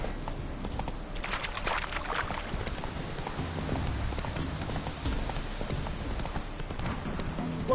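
In The Witcher, the horse Roach gallops with a rapid, continuous clip-clop of hooves, close and loud, set against a rain-like wash of ambient noise.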